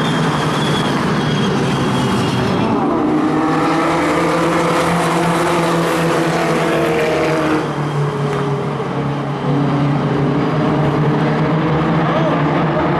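Race cars roar around a local short track in the closing laps, a continuous loud engine drone with shifting pitch as cars pass, while a commentator talks over it.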